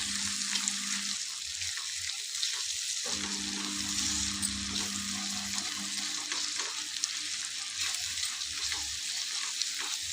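Ginger paste frying in oil with onions for an egg curry, a continuous hissing sizzle that stays loud and steady, with a low hum from the stove underneath.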